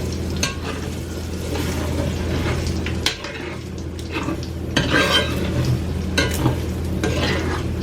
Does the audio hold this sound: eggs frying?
yes